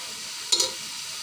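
A sticky bhapa pitha mixture is stirred in a pan with a single short scrape standing out over a steady background hiss.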